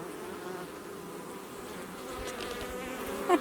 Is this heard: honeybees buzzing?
yes